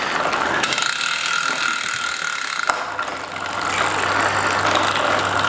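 Rear derailleur on a bike fitted with SRAM AXS electronic shifting clicks and whirs through gear changes, a steady close mechanical ratcheting with a sharp tick midway and a low motor hum later, a little uneven.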